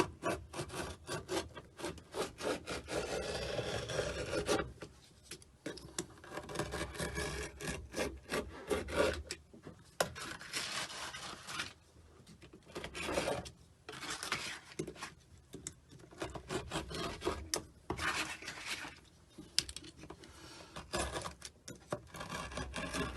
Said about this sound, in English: I'm going to cut around the outside and make sure this is fully stuck down.